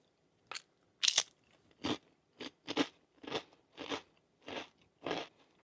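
Crispy rye bread cracker from a Finnish military ration being bitten and chewed close up, a series of about nine sharp, crunchy bursts in a steady rhythm, alone in quiet surroundings.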